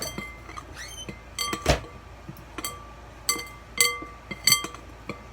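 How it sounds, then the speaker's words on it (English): A spoon clinks and taps against a bowl while cookie ingredients for gluten-free chocolate peanut butter cookies are stirred, giving scattered sharp knocks over a quiet room. "Stir it."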